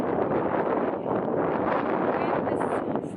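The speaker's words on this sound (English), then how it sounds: "the wind is slightly blowing here" Wind blowing on a beach in winter, a steady, close rush of wind buffeting the microphone that barely changes through the whole stretch.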